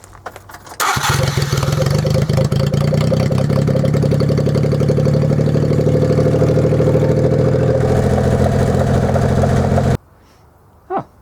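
A Suzuki Carry engine fitted with a replacement, nearly straight-through exhaust with some baffles starts and runs at a loud, buzzy idle close by for about nine seconds, then cuts off abruptly to near silence.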